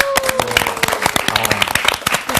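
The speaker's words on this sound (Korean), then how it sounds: "우리 박수로 한번" A class at a church Bible study lecture claps for the class leader, with scattered individual claps and speech heard clearly over a busy room.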